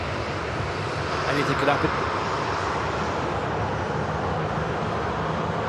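A Boeing 747 departing Manchester Airport gives off a steady, broad jet engine roar that holds at a constant level, heard from a distance, with a voice speaking briefly over it.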